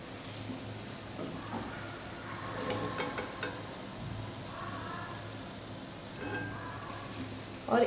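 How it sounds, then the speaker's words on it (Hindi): Potato gulab jamun frying in oil over a low flame, a soft continuous bubbling sizzle with occasional light stirring clinks near the end. "गुलाब जामुन जो है उसे भी गोल्डन ब्राउन होने तक लो फ्लेम पे फ्राई कर लेंगे अच्छे से"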